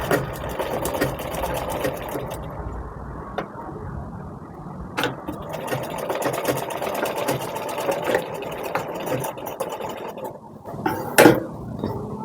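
Sewing machine stitching a four-tuck blouse, a rapid mechanical whirring rattle in uneven bursts with brief pauses, close and fairly loud.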